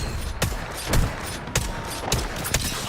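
Gunfire in the Apex Legends video game: several sharp shots spaced through the clip over a busy game background, with one heavier burst near the middle and no speech.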